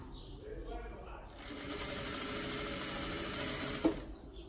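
A sewing machine stitches a seam on an envelope skirt, starting up after a brief pause and running in a fast, steady, rattling drone for a few seconds before stopping abruptly with a small clunk.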